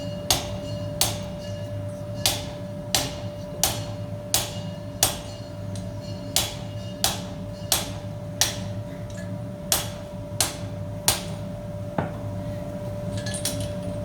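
Steady hammer blows on a fire-welded chain link held over an anvil, each strike a bright ringing clank at a slow, even pace, about a dozen in a row, with a faint constant hum beneath and no talking.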